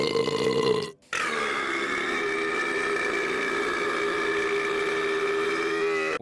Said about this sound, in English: we can also have a burp contest with their technician